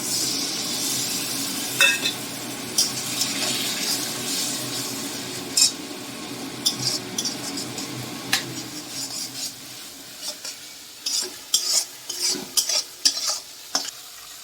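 A spoon scrapes and stirs pointed gourd curry with mustard and poppy seed paste in a pan, making a soft sizzle with irregular clinks and knocks against the metal. No one talks.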